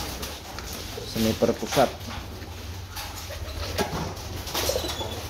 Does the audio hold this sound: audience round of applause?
no